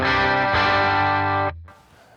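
Electric guitar through a Z80 amp with pedalboard effects rings out as a dense, distorted chord with chorus shimmer, restruck once, then cut off into a short fading tail; no talking.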